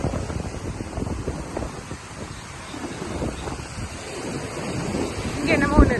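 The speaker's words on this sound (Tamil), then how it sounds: "ரொம்ப அலை அடிக்குது" Ocean waves at Auroville beach in Pondicherry, a continuous low rumbling surf mixed with heavy wind buffeting the microphone, rising slightly toward the end.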